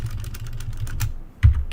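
Keys clatter in quick irregular bursts on a computer keyboard while entering a cost item into a spreadsheet, close and moderately loud, with a sharper knock near the end and no voices.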